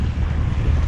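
A strong east wind at sea buffets a small fishing boat during ultralight jigging, a loud, steady rushing roar that batters the microphone with low rumble and nothing else audible.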